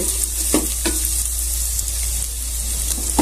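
Cooked wheat being stirred into ghee and roasted coconut in a pan, a steady sizzle with a few scraping spoon strokes, close and even, no talking.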